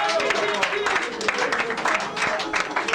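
A studio audience claps in a dense patter of applause, fairly close, while a voice speaks over it.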